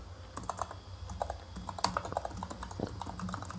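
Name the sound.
typing on a computer keyboard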